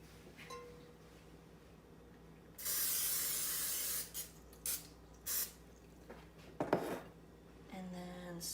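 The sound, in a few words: spraying bread pan with cooking spray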